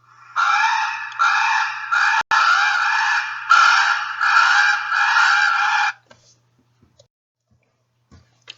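Common ravens from a fledgling family give loud, harsh screaming calls in a rapid run of raspy bursts for about six seconds, then fall silent apart from a few faint ticks.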